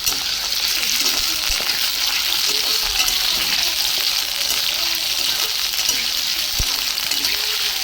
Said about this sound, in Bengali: ওদিকে আলু ভাজা শুরু করেছি